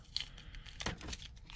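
Masking tape tears in short, close rips and crinkles while being peeled off a shoe sole, a few quick bursts over a quiet background.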